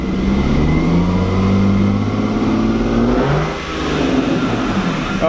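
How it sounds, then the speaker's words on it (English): Lexus IS300 with a swapped manual gearbox pulling steadily through the gears on a drive, the engine droning and rising in pitch with each gear, close and loud inside the cabin. "Going through all the gears. No grinding. Like butter."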